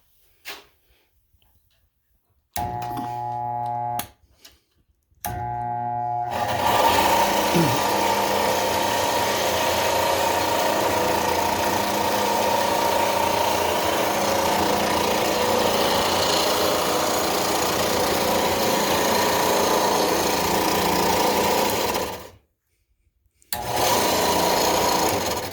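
Harbor Freight belt sander with a fresh sanding belt, starting in short bursts and then running in a steady loud whir for about fifteen seconds before a brief stop and restart.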